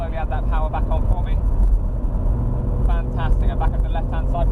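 An Audi R8 V10 Convertible on a track drones with a low engine rumble that builds steadily as the car accelerates, while a voice gives driving instructions over it.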